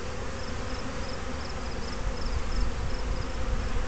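Steady, dense buzzing of many honeybees close by around a hive on a warm fall day, a continuous drone with no pauses, joined by a higher whine of wings throughout.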